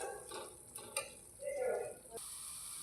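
Vermicelli (shevaya) being stirred in a pan, a soft scraping and faint sizzle with a light clink of a utensil, quiet and close.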